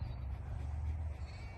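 A sheep bleats close by on a farm, a low, drawn-out call that is loud and continuous with no talk over it.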